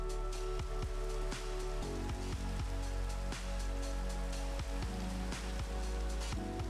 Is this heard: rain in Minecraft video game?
yes